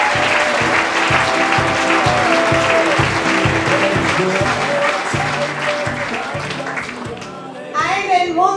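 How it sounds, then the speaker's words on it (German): Loud, sustained audience applause at a farmers' ball, cheering for three young women, with steady clapping and a rhythmic beat underneath, fading slightly before a brief burst of voices near the end. "Bitte einen großen Applaus für unsere drei jungen,"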